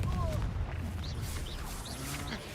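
Confringo blasting spell in the Hogwarts Legacy video game: a dense, low rumbling boom with crackling bursts that carry on steadily, with faint chirping flickers above the blast noise.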